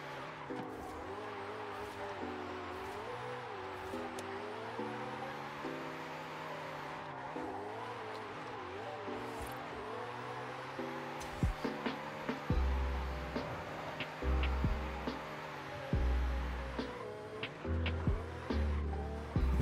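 A Ferrari 488 Challenge car drifts in Forza Horizon 5, its engine droning and shifting pitch steadily with tire squeal, then rising in louder bursts of revving near the end.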